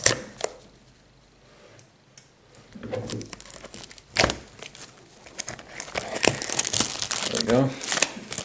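A crinkly plastic wrapper on a trading card pack being cut and pulled open with a knife, with crumpling and tearing bursts of varying loudness, and someone speaking briefly over it.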